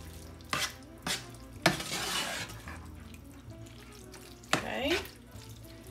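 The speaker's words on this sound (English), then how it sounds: "And you're gonna mix all this in together." Spoon stirring Knorr pasta together with sautéed peppers, onion and bacon in a pan, with a few distinct scraping strokes and soft sizzling between them, fairly quiet and close.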